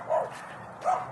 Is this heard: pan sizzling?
no